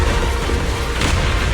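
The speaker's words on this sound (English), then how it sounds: "Move in during the gaps between explosions" Explosions in the Zenless Zone Zero video game, a dense, continuous booming roar with a heavier blast swelling about two-thirds of the way through, loud and close, with no talking.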